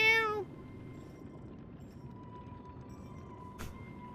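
A small kitten wearing a bell collar in Lies of P gives a single short, high meow at the start, then a quiet hum and one faint click follow.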